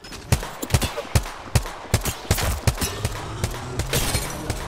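Gunfire in the Apex Legends video game: rapid bursts of sharp shots, some near and loud, others scattered and overlapping in an irregular fusillade over a low background.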